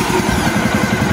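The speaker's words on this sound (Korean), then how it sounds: "엔진이 켜지죠" A small engine on a remote-controlled power sprayer runs loud and close, a dense steady chugging with a rapid pulsing rhythm and no voices over it.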